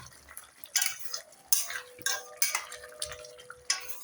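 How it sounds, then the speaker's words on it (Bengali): A spoon clinks and scrapes against a pot while chopped boiled egg is mixed into chicken bharta, several distinct close taps and stirring scrapes spaced irregularly, with no voices. "এরপর যে ডিমটা আমি সেদ্ধ করে রেখেছিলাম সেইটাকে আমি কেটে রেখেছি, সেটাকে এর মধ্যে মিশিয়ে দেবো।"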